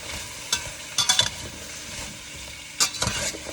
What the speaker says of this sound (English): I'm gonna stir around. Get the olive oil in it a little more